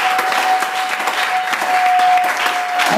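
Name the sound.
church congregation applauding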